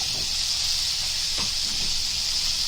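Green chillies sizzle in hot oil in a pan while dhaba-style chicken cooks, giving a steady, close hiss with faint crackles and no talking.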